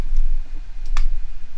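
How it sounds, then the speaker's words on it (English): Typing on a computer keyboard produces a few light, scattered key clicks, close and fairly faint over a low steady hum, with no one talking. "So I'm typing in delta"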